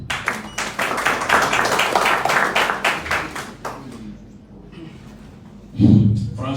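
Audience claps after a speech at a press conference, a scattered burst of hands that thins and fades out after about four seconds, followed by a brief low thump.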